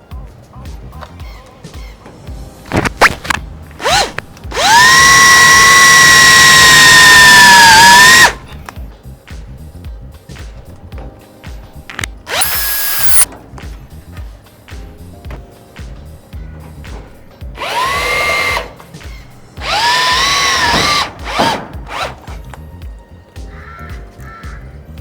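A power drill drives special screws to mount a 12V DC solenoid electric door lock, with several loud, sustained whirring bursts of varying pitch between shorter clicks, taps and handling noises.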